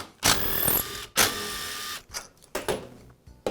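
A small screwdriver removes screws from the air filter case of an Echo hedge trimmer. Close, sharp bursts of mechanical whirring come in several short runs, separated by brief pauses and handling clicks.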